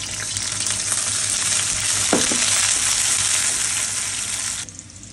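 Onions fry in a pan with a loud, dense, continuous sizzle, a brief stirring clatter partway through, before the sound cuts off sharply near the end.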